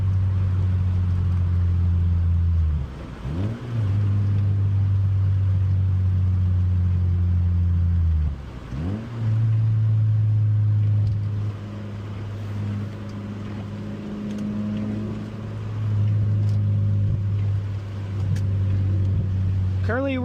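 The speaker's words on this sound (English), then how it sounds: "The drone isn't too bad with my titanium muffler" A Mazda Miata with a titanium muffler drones steadily from the exhaust while driving, a loud low hum that dips briefly twice as the revs change, then carries on.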